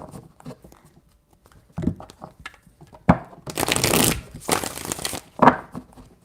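Tarot cards shuffled by hand in several bursts of dense riffling, the loudest near the middle, with scattered soft taps and handling noises between them, close and fairly clear.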